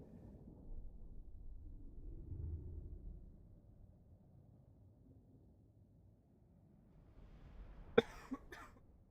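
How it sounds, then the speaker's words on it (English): Two short, sharp coughs from a person who is ill break a quiet stretch near the end, after a long, low rumbling background. "you will hear me coughing, maybe sneezing a few times"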